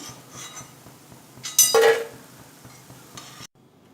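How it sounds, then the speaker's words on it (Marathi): Crispy fried potato pakoras are lifted out and set onto a plate, with soft scraping and light clinks and then a louder crunchy, rustling clatter in the middle, close up and without talk. "आता याला आपण एका प्लेटमध्ये काढून घेऊया पहा किती क्रिस्पी झाले आवाजावरूनच लक्षात येत आपल्याला"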